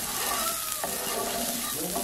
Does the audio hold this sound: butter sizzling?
yes